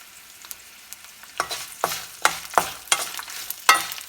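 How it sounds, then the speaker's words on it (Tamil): Grated coconut and spices fry in a pan for a lentil chutney, with a soft background sizzle broken by a series of sharp stirring scrapes about every half second, close and moderately loud, with no voices. "தேங்காய் சேர்த்து கொஞ்சம் லைட்டாக ஃப்ரை பண்ணிவிட்டு"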